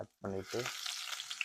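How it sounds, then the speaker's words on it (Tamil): Three cloves of garlic and two chopped green chilies sautéing in oil for egg noodles sizzle briefly right after a short spoken phrase, a close, bright crackling hiss. "கொஞ்சம் நல்லா லைட்டாக கோல்டன் ப்ரௌன் கலர் வர வரைக்கும் வதக்குங்க"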